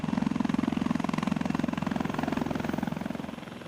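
A Tiger twin-engine attack helicopter flies past during exercises, its rotor throbbing in a fast, steady pulse that fades slightly toward the end, with no voices.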